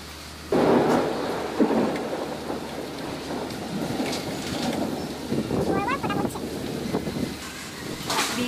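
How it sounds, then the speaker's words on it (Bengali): A thunderstorm with heavy rain and strong wind roars outdoors, a sudden burst of rushing rain and gusts holding loud and steady, with brief bird chirps and some talk mixed in. "বিকালের দিকে খুব ঝড় পানি শুরু হয়ে গিয়েছে আর খুব বাতাসও হচ্ছে।"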